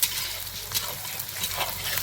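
Onions fry in a pan for chicken kasha, giving a close, steady sizzle with a few scraping stirs of the spoon through the oil.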